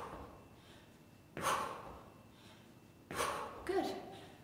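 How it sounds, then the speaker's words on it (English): Heavy breathing during a beginner shoulders-and-triceps workout: two or three sharp, loud exhalations and gasps separated by quieter pauses, close to the microphone. "See how I'm breathing?"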